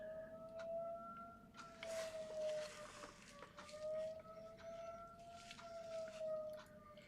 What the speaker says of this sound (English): It's the same siren, I believe